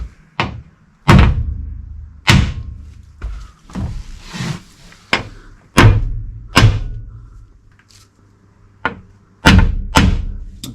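Coach screws are hammered into drilled 6mm holes during barge maintenance: a series of about a dozen sharp, heavy thuds at an irregular pace, close and loud, with short quiet gaps between blows.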